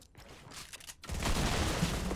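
Fortnite gunfire opens with a few faint scattered shots, then becomes a dense, sustained burst of rapid fire at moderate loudness.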